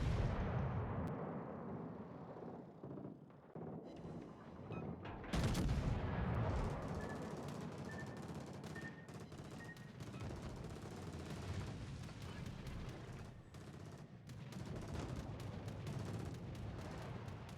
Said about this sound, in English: So I'm shooting at a battleship right at the moment.